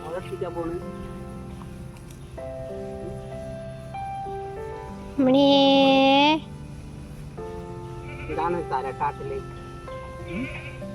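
Goats bleat in a field brought out to graze on wet, muddy ground, one loud close cry standing out among softer intermittent bleats, with people talking throughout.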